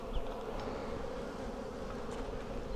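Honeybees hum around a large, honey-filled hive, a soft, steady drone of many wings with occasional closer buzzes passing by, no talking.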